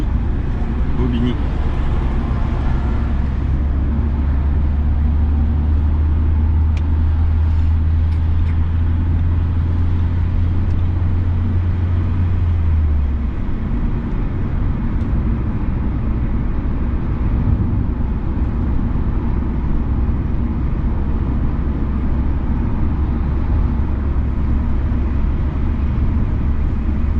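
A car drives along a road near Bobigny during a driving lesson, a steady loud engine drone and road rumble heard from inside the cabin, with a low hum that drops away partway through while people talk.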